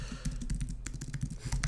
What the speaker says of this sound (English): If you guys want it, let me type it in here.